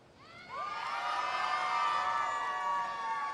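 A crowd at the MCM Scotland convention cheers loudly for a joker costume contest entrant, with whoops and shrieks. The sound swells suddenly and holds as one sustained roar.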